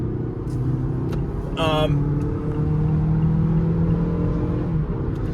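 A 2022 Mazda CX-5 SUV engine hums and rises steadily as the vehicle picks up speed, with a brief whistle-like tone early on and steady road noise.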